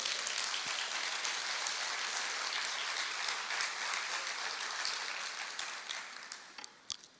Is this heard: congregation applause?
yes